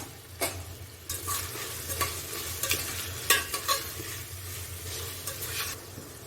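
Tomatoes frying in oil for aloo gosht, a soft continuous sizzle broken by irregular spoon scrapes and clinks against the pan as they are stirred, fairly quiet and close, no talk.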